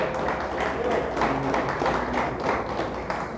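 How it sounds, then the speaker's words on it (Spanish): A church congregation claps loudly for God at a pastor's urging: a thick, continuous patter of many hands, with faint musical or vocal tones underneath. "Denle un fuerte aplauso a Dios, déselo fuerte, fuerte, porque es para Dios."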